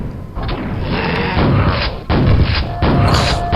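A loud, heavy explosion in Quake with rumbling booms and thuds, followed by further impacts and crashing noise.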